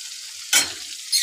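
Bhetki fish dropped into a hot pan after frying potatoes: a close, bright sizzle that bursts up twice in short surges over a steady hiss of hot oil, with no voices.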